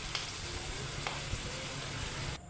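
Roti cooking on a hot pan in a home kitchen, a steady close sizzle with faint scraping and stirring, no voices, cutting off abruptly at the end.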